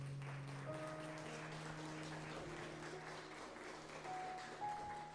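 A church congregation clapping along during a Spanish-language sermon, steady and fairly quiet, with sustained tones from music or singing running beneath the claps throughout.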